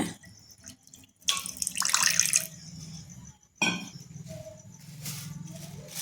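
One and a half glasses of water are poured into a cooking pan in two separate splashing pours, each bright and close, separated by a short pause.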